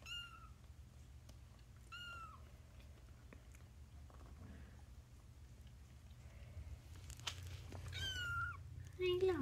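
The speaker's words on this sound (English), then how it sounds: "kitty's crying back there." A cat cries and meows from somewhere nearby, several short plaintive calls over a low hum, with a few faint clicks and rustles and a soft voice talking briefly.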